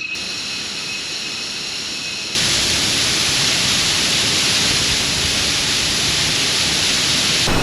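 A waterfall in Munduk, Bali rushes as a dense, steady roar, starting quieter behind a thin high whine and then swelling abruptly louder and closer for the rest of the stretch.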